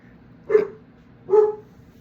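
Two sharp dog barks ring out about a second apart, fairly close and loud against a quiet low background, with no talking.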